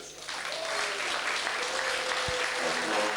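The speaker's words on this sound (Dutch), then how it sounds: "Een dik applaus voor de Joekskapel" Audience applause for a Joekskapel brass band at a 1990 carnival sitting evening in Horst, a dense, steady clapping crowd filling the hall throughout.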